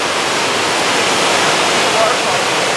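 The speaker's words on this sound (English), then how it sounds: "The waterfall, sorry." A waterfall roars as a loud, dense, steady rush of water, close by and unbroken for the whole stretch.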